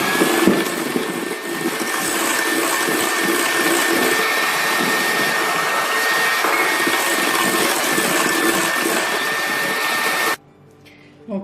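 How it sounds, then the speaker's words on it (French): An electric hand mixer whips egg whites with sugar for meringue, a loud, steady high whir running continuously for about ten seconds before cutting off abruptly. "je vais les terminer avec mon batteur à main"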